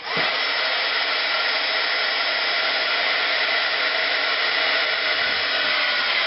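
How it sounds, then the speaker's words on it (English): A small, inexpensive heat shrink gun blows hot air, a loud, steady, close hiss-like whoosh that starts abruptly and runs unbroken throughout with no talking. "This is just a little heat shrink gun."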